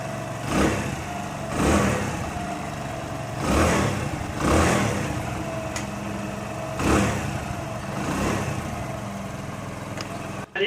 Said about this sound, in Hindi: अब इंजन करने के बाद आप इसकी आवाज़ सुनिए।